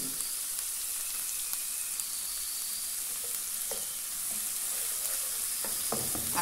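Seasoning sizzling steadily in hot oil in a pan while being stirred, a continuous loud frying hiss with occasional scrapes of the spoon, no talking.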